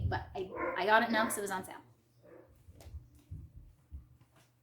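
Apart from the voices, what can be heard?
dog barking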